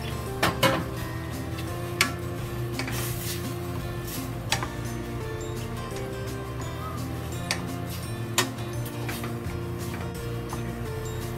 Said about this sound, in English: Okay. We fry it.